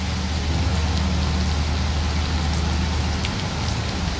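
Steady, heavy rain pours in the Mafia game, a dense constant hiss with a low rumble beneath. It plays alone with no talk, even and unbroken throughout.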